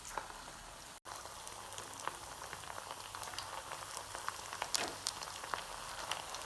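Mutton kola balls drop into hot oil over a medium flame and fry with a steady, quiet crackle and fine popping, close but soft, and nobody speaks.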